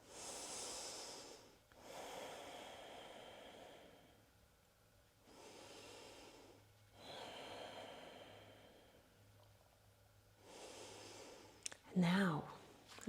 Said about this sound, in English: Have 3 more breaths.